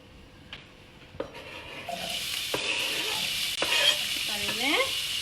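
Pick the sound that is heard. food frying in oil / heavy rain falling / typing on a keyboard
food frying in oil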